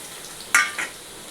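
Potatoes for a dry potato-and-peas sabzi drop into a hot pan, giving a sudden loud sizzle burst that fades, followed by a smaller second hiss, close and without talk.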